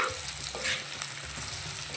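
Dried mango pieces frying in hot mustard oil for a mango pickle, giving a steady, dense sizzle that fills the whole stretch with no talk over it.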